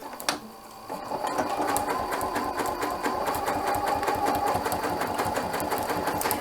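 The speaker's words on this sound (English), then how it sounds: "So I'll get that under the foot, and I'm going to start sewing." A Janome sewing machine fitted with an Ultra Glide foot stitches elastic, starting after a brief pause and then running at a steady, even rhythm, close and moderately loud.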